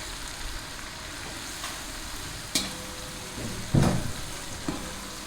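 Onions fry with whole spices, including a two-inch cinnamon stick, in a pot for chana pulao, giving a steady close sizzle broken by a few sharp scrapes and clinks of stirring.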